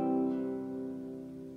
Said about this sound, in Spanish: pero el do como acorde suena así